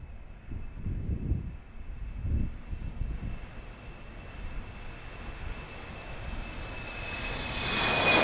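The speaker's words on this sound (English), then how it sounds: "Next stop, heading for Stuttgart, German Airways, Embraer E190." A German Airways Embraer E190 jet at Amsterdam airport, its engines giving a steady distant whine and rumble that swells slightly toward the end, with a few low thumps early on.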